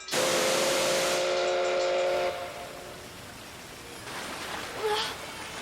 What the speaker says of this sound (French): Vous aussi, vous avez entendu siffler le train?